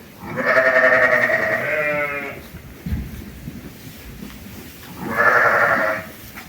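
Sheep bleating on a sheep farm in Medvedivtsi village, Ternopil region: two long, loud, close bleats separated by a quieter stretch of background farm noise.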